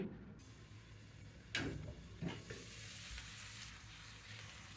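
Chicken cooking in a pan on a low flame gives a faint, steady sizzle, broken by a couple of brief stirring scrapes, with no voices.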